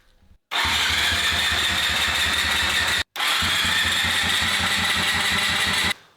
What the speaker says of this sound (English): I turn the ignition on and simply turn the bike over.